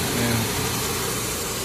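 A vehicle engine just switched on runs at a steady, close idle in Saudi Arabia, a constant low rumble filling the short stretch without variation.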